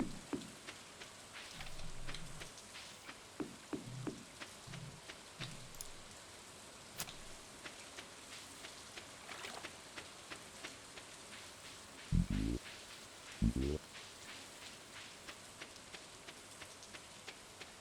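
Steady video-game rain in Stardew Valley patters across a surface with scattered droplet ticks and a few soft low thumps, fairly quiet and continuous.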